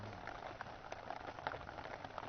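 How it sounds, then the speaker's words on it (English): Steady rain patters on ponchos at an outdoor milsim field camp, a dense continuous spatter of close drops with no break. "It's been steady rain."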